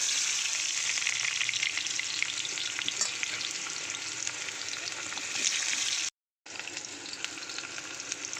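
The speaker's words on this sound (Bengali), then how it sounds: "পেঁয়াজটা আগে একটু ব্রেস্তা করে নেব লাল করে।" Onion rings frying in a pan, a dense, even hiss of sizzling oil that holds steady throughout, close and loud, broken by a brief total dropout near the end.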